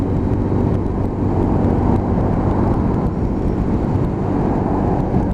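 A Lexmoto LXR 125cc motorcycle rides in traffic, its engine a loud steady drone blended with wind rush and road noise, continuous and without talk.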